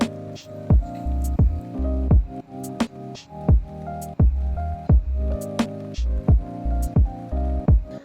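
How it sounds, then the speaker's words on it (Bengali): Flour dough kneaded with water by hand, with rhythmic wet squishing slaps repeating roughly every half second close up. "এবার এটা ভালো করে মাখতে হবে"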